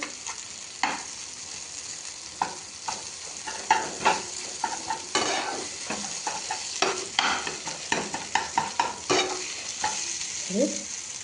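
Vegetables frying in a pan while a spoon stirs them, scraping and clacking against the pan in irregular bursts over a quiet, steady sizzle.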